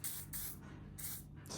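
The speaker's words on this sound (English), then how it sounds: "we're going to use some WD-40." A short aerosol spray of WD-40 lubricant hisses in several quick bursts, close up, with brief pauses between them, applied to the bearings and axle of a stroller.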